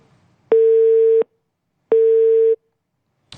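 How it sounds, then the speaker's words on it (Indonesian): Two long, steady telephone busy-tone beeps sound loudly and alone after a call connection drops, each lasting under a second with a pause between, followed by a brief click at the end. "Tampaknya sambungan kami untuk kepada Kasih Opsar Padang Henry untuk memperbarui informasi terputus"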